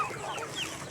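Soft clucking from chickens nearby against a murmuring background, brief and fairly quiet.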